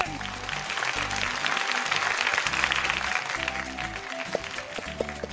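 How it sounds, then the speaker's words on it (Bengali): A crowd applauds loudly and steadily for a guest of honour at a prize-giving gathering, with music playing underneath throughout. "একটা জোরে হাততালি হয়ে যাক মিস্টার রজত সরকারের জন্য"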